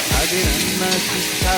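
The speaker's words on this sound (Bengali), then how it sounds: "এখন দিয়ে দেব তেলের মধ্যে পাতাকপি এবং আলু দিয়ে দিলাম।" Shredded cabbage and potatoes sizzle close up in hot oil in a pan. About three quick scraping stir strokes cut through the steady frying hiss.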